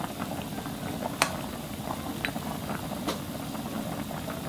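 Potato and dried pollack soup bubbles steadily in a pot, a soft continuous simmering burble with occasional sharper pops, close and fairly quiet with no voices.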